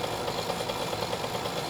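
A mini bike engine runs at a steady idle-like drone in the game 7 Days To Die, a constant mid-pitched hum with faint rapid pulsing, no voices over it.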